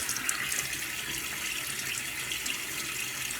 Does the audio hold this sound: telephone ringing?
no